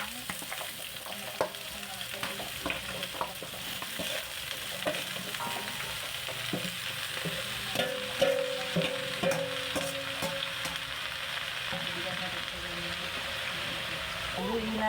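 Kamansi being stirred into a coconut milk stew with papaya, a steady close sizzle and wet scraping of a spoon through the simmering pot, with faint background noise throughout.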